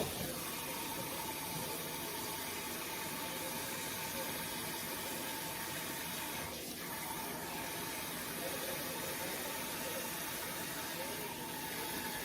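Tap water runs steadily into a kitchen sink while steak is rinsed, a faint continuous hiss and gush with no clear breaks.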